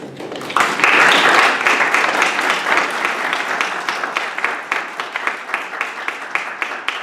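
An audience applauds a speaker at an evening talk on geospatial big data, with a dense burst of clapping that swells quickly, then thins into scattered, distinct claps as it fades over several seconds.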